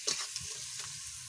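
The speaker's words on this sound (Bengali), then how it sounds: "এবার হলুদ লবণ দিয়ে পেঁয়াজটা ভালো করে একটু ভেজে নিতে হবে" Sliced onion fries in a pan with turmeric and salt, giving a soft, steady sizzle with faint stirring scrapes, quiet and close.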